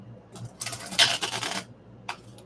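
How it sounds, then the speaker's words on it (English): A deck of tarot cards being shuffled, a dense papery riffle of rapid flicks lasting about a second, followed by a short single flutter, close and fairly quiet with no talking. "Oh, that was not a good shuffle at all."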